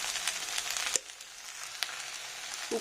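Okra (bhindi) frying in a pan, giving a soft, faint sizzle with a few brief clicks and knocks, heard close up and without voices.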